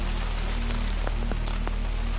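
Rain falls on a wet stone street in Edinburgh as a soft, steady patter with scattered sharper drops over a low constant hum.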